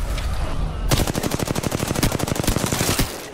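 Rapid automatic gunfire in Apex Legends, a long burst of sharp, evenly spaced shots that opens abruptly after a quiet moment and rattles on loudly and close for over two seconds.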